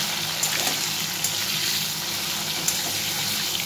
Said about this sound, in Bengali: এবার আমি আলুগুলো ছেড়ে দেবো ভাজার জন্যে